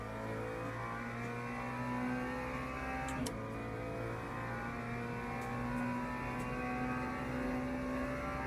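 A race car engine in Le Mans Ultimate holds a steady, droning rev in first gear, a continuous buzzy tone with layered harmonics, alone and fairly loud, with one brief click partway through.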